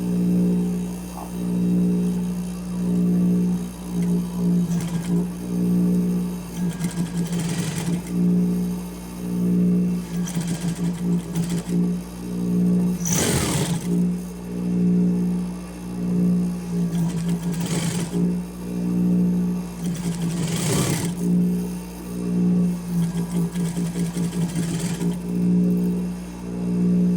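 Sewing machine stitching bias binding onto woven fabric, a steady motor hum running in bursts of stitching with brief pauses and occasional louder clunks, close and clear with no talking.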